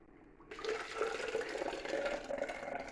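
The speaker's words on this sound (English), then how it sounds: "pour it into the measuring jug." Homemade stinging nettle soup is poured into a measuring jug, a soft continuous gurgling splash that starts abruptly and runs steadily for a few seconds, close but faint.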